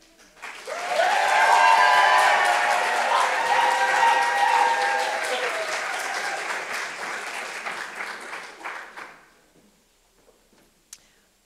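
Audience applause at the finals of a business plan competition, rising quickly, staying full and steady for several seconds, then thinning into scattered claps and fading to near silence.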